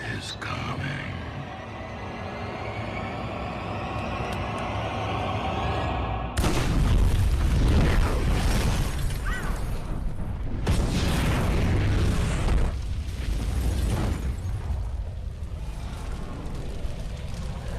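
A house explodes as it goes up in flames in the horror film Evil Dead, a loud, sudden boom with a dense rumbling blast that surges midway and carries on, broken by further heavy bursts.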